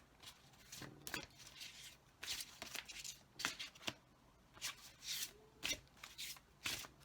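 Oracle cards being shuffled by hand in short, separate bursts of papery riffling and rubbing, fairly close and quiet, with brief pauses between each burst and no talking.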